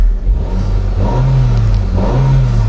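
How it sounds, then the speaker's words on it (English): Ford Focus with a factory-fitted LPG system, its engine revved twice in quick succession from idle, each rise a smooth, clean swell heard close up with a steady idle hum between. "Engine sounds absolutely sweet."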